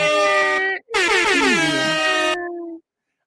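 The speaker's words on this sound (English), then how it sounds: "So where's the air horn at?" A loud, blaring air horn sounds twice in close succession, the second blast longer with a pitch that slides and wavers before cutting off.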